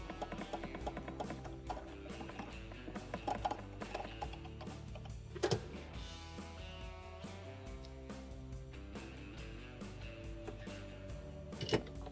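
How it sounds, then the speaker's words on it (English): 2 1/4-inch screws are driven into a commercial ice maker during a repair, with close ratcheting clicks and whirring mechanical bursts repeating steadily and no voices. "we're going to go ahead and put our 2 1/4-inch screws in on each side"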